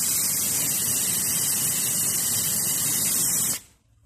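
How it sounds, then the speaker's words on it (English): Air hissing out of a tire through a quick-connect tire deflator, a loud, steady, close spray of air that cuts off abruptly near the end. "The deflation would start automatically."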